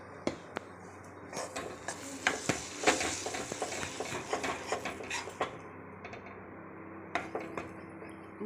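Gram flour roasting in oil with asafoetida is stirred in a metal pan, producing irregular scraping strokes and sharp clinks of the spoon against the pan over a low sizzle that fades toward the end.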